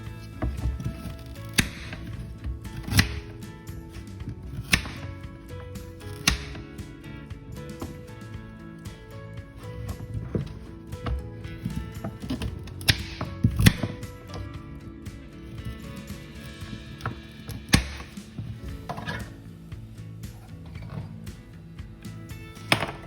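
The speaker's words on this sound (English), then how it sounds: "So I'm just going to cut it up fine so that the blender will be able to chop them up" A knife chops beetroot and carrot finely on a board, a series of irregular sharp knocks spaced a second or two apart, moderately close, with no talking.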